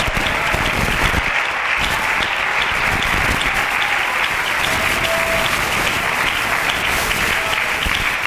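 A church congregation applauds steadily and loudly throughout, a dense continuous clapping from a crowd with no break.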